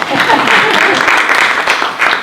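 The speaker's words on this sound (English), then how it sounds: "yay, applause, applause." Audience applause greets a guest called up to the stage at a storytelling event for first responders, a steady wash of clapping lasting a couple of seconds with voices mixed in.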